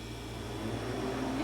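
A Harvest Right freeze dryer starts up, its vacuum chamber cooling with a faint, steady mechanical hum and broadband hiss that swells slightly, heard alone without talk.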